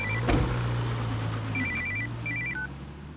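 A telephone rings in short electronic trill bursts, repeating twice, over a low engine-like hum with a brief knock near the start; no one speaks.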